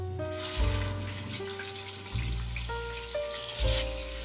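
Chicken pieces frying in a pan with salt and crushed dry coriander, part of a green chicken paneer curry, give a steady close sizzle with a hissing wash of noise and small surges in intensity. No one speaks.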